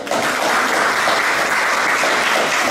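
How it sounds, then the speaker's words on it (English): Sustained audience applause at an Australia Day flag-raising ceremony held by a Vietnamese-Australian community in Victoria, steady dense clapping filling the whole stretch without a break. "A big round of applause."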